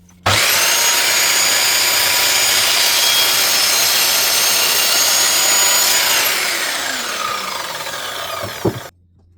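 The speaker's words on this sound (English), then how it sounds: "Drill a hole slightly larger than the insert." A power drill bores a hole in a wooden croquet mallet shaft, sized slightly larger than an insert; a loud, steady high-pitched whir runs for about six seconds, then winds down and slows before a sharp knock ends it.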